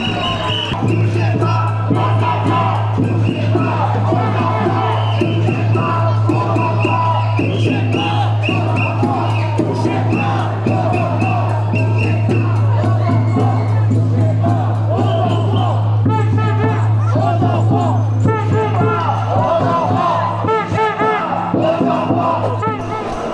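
Crowd noise at an anti-pass street demonstration, a steady dense roar of voices and chanting with a low constant hum underneath, loud and sustained throughout.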